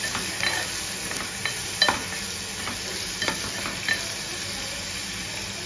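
Chopped onion fries in a pan for a prawn gravy, sizzling steadily while a spoon stirs and scrapes at intervals, close and continuous.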